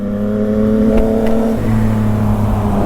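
A Yamaha MT-09 motorcycle engine revs steadily, a strong harmonic drone that blips up twice around the middle before settling into a lower idle, loud and close with no talking.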